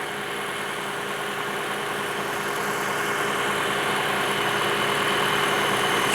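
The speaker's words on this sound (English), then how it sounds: "This is the RAV4 hybrid engine for the 2022 model." A 2022 Toyota RAV4 Hybrid Limited AWD engine runs quietly at idle nearby, giving a steady, even hum with faint tonal whine that holds unchanged throughout and no talking.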